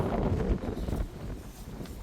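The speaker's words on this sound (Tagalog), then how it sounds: "Lakas ng hangin." Strong wind gusts buffet the microphone outdoors at a racing pigeon loft, a continuous low rumbling roar that swells and eases over about two seconds, with no voices.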